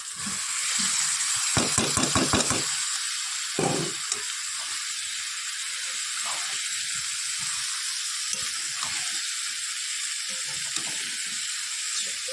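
Boiled green jackfruit sautés in a hot pan with a loud, steady hissing sizzle throughout, broken early by a quick run of stirring scrapes and a few soft knocks.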